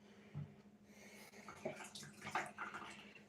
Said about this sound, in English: My personal technique is to rinse it under the sink and then to squeeze all the excess soap out.